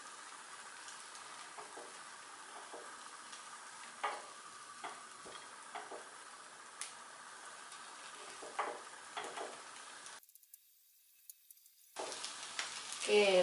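Bika ambon cake sizzling as it cooks in a Teflon pan, a soft steady frying hiss with occasional small pops, briefly cut off, then a clatter of the pan.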